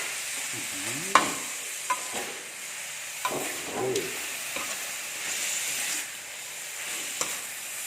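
Chicken stir-fried with a generous handful of fresh holy basil leaves, giving a continuous hissing sizzle with sharp clanks and scrapes of a spatula in the pan, close and fairly quiet.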